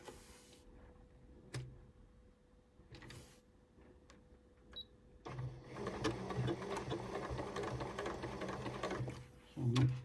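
Sewing machine stitching fabric for a cathedral window Christmas tree decoration, running in a steady whirring burst for several seconds after quiet handling clicks, with a short stitch at the end.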